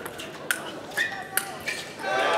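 Ping pong ball strikes in a 2018 World Championship of Ping Pong last-32 match: four sharp, bright clicks spaced about half a second apart, under a commentator's voice and crowd murmur.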